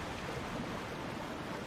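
A waterfall in the video game Elden Ring, heard as a steady, dense rush of falling water that stays even and continuous throughout, with no voices over it.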